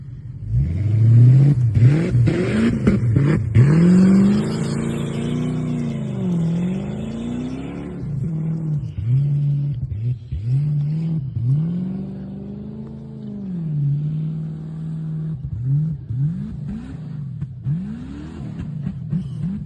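A Ford Falcon XB GS coupe engine revs up and down repeatedly with an uneven, rough run, each blip swelling and sagging close by as the idle hunts between rises.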